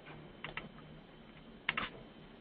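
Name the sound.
typing on a computer keyboard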